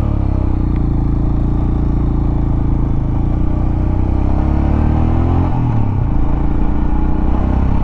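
A Royal Enfield Himalayan motorcycle runs loud and steady while being ridden, its engine drone shifting pitch around a gear change late on, with no talk over it.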